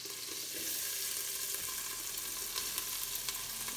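Chopped onions and celery sautéing in a pot, a dense steady sizzle with faint crackles running throughout, close and continuous, no speech.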